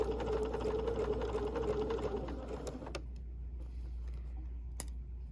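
A sewing machine runs a short burst of stitches through a quilt block for a double wedding ring pattern, a steady close whirring for about three seconds before stopping, with faint clicks afterward.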